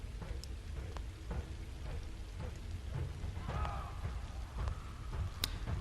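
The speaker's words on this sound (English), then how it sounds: "Dark clouds gather above us, bringing with them a rain more intense than ever before." Heavy rain in a video-game flood falls in a constant close hiss of drops, with low thunder-like rumbles and a few sharp spatters.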